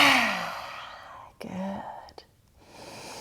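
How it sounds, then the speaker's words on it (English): A forceful, breathy exhale with the tongue stuck out during a throat chakra yoga flow, loud and close, followed by a shorter second breath and a fading sigh, with no speech. "stick out your tongue for lion's breath"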